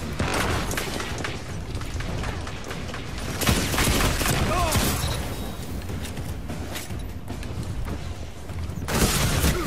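Hand cannon gunfire in Destiny 2 cuts through busy game noise as a few heavy, booming shots with rumbling tails, set apart by stretches of lower-level combat sound.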